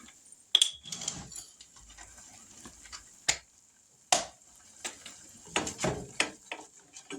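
A spoon scrapes and clinks against a pot while ham and potato soup is stirred, giving sparse sharp metallic taps and knocks spread over several seconds against a quiet background.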